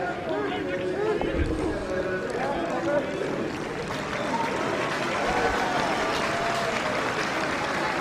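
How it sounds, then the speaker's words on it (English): Crowd applause from the far side of the field at a Workington versus Toronto rugby league match in 2017, a distant, sustained clapping spread across the stands, with a commentator talking over it. "There's applause on the far side of the field because Callum Phillips has been interchanged"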